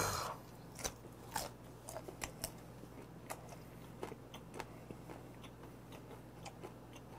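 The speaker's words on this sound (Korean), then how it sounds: "살짝 단단한 이 껍질이랑 같이 씹는 것도 좋지만 부드럽게 새우 살만 이렇게 딱 넣는 것도 더 좋거든요." Quiet, close-up crunching bites of salt-grilled seasonal whiteleg shrimp eaten with the shell on, a series of sharp irregular crunches over a faint steady hum.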